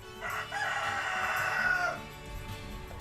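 Rooster crowing among free-range hens on an organic farm that also keeps dairy cattle and sows, one long clear crow at moderate distance with faint background farm ambience.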